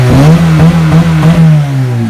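A Honda Civic fitted with a custom low-budget valvetronic exhaust revs loudly up close, a deep throbbing drone with pulsing throttle blips that holds and then eases off.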